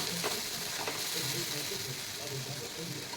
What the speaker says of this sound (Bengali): যতক্ষণ না তেল ছাড়বে ততক্ষণ আমি ভালো করে মশলাটা কষিয়ে নেব